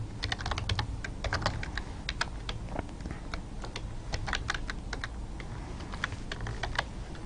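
Someone types C++ code on a computer keyboard in a quick, steady stream of close, crisp key clicks with small pauses between bursts and no talking.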